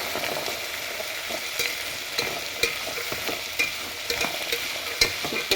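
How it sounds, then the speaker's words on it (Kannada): Chickpeas frying in oil for a spiced usli, stirred with a spoon that scrapes and taps rhythmically against the pan over a steady sizzle, close and clear with no voices. "ಕಾಳುಗಳನ್ನೆಲ್ಲ ಇದಕ್ಕೆ ಹಾಕ್ಕೊಳ್ಳಿ ಹಾಕಿ ಇದೆಲ್ಲ ಕೂಡ ನೀಟಾಗಿ ಮಿಕ್ಸ್ ಮಾಡ್ಕೊಳ್ಳಿ"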